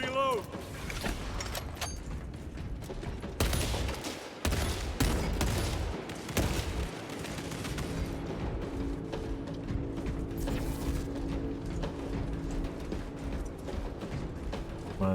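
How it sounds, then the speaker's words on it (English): Mechanical clicks and ratcheting of a weapon being reloaded in Warhammer 40,000: Space Marine 2, layered over dense game noise with bursts of gunfire, music and a voice talking. "Need to reload"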